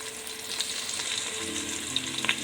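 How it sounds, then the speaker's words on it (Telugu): Curry leaves frying in a pan for coconut rice give a steady close sizzle with a few crackling pops near the end, no talking. "కరివేపాకు. ఈ ఫ్రై అయ్యాక మనకి చూపిస్తాను."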